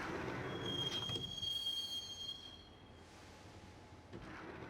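Train ride in the Max Payne video game: a loud rumbling carriage with a high, thin wheel squeal across the first half, easing into quieter rolling rumble before swelling again near the end.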